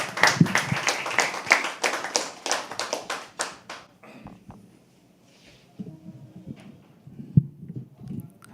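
An audience at a live poetry open mic claps loudly and steadily for a few seconds, then the applause breaks off into scattered taps, shuffling and quiet room noise.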